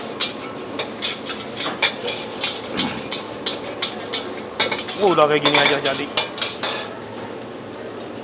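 Cooked rice stir-fried with sausage in a wok in a busy restaurant kitchen: repeated metal scraping and clattering strokes with a steady sizzle underneath, close and fairly loud, and a voice speaks briefly near the end.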